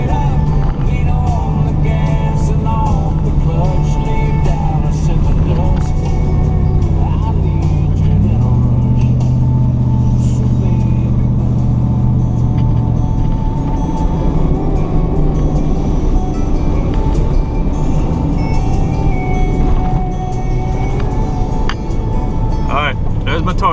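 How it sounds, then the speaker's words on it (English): A car rolls down a dirt track toward a 1000-yard rifle target, its engine a steady low drone with a brief shift in pitch partway through, and music plays faintly inside the cabin. "let's drive down here and look at it"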